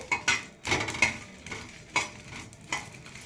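Byadagi red chillies fry in a pan for raw mango chutney. A utensil stirs them in quick, repeated scraping strokes over a light sizzle, close up and with no talk.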